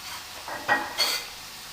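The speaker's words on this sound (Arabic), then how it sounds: "غنبدا ديال البصله غادي نشحروها مع شويه ديال الزيت" Onion sautéing in a little oil in a pan gives a quiet sizzle broken by two brief scraping stirs, close and short.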